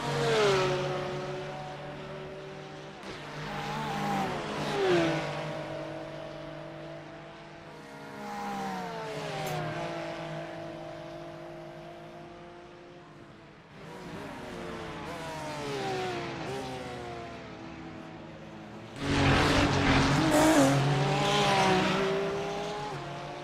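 Race cars, including a Honda NSX and a Porsche, scream past on the Bathurst circuit, their engines rising and falling in pitch as they pass one after another, loud and sustained, with a harder, closer surge near the end.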